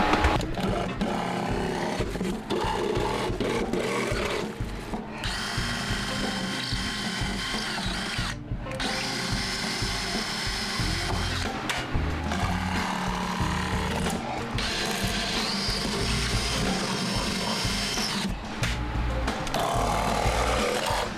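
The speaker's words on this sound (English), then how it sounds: "Pre-drilled the holes so that there'd be room to get the blade in for the jigsaw." A power jigsaw cuts through wood on a boat repair, the blade buzzing loudly and continuously with brief pauses and restarts, a close, harsh rattling saw drone with no talk.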